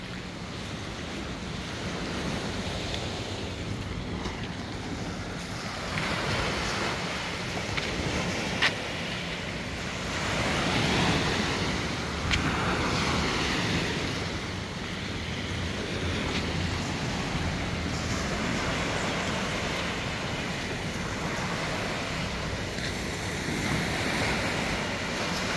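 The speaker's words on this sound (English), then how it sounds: "That's Dover Beach, and that's the beach you're seeing right there." Ocean surf at Dover Beach in St. Lawrence Gap, Barbados, a continuous broad wash of breaking waves swelling and receding, mixed with wind buffeting the microphone, with no speech.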